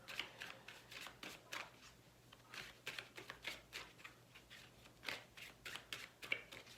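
A tarot deck is shuffled repeatedly, with quick riffling bursts and soft slaps in an uneven rhythm, close and fairly quiet.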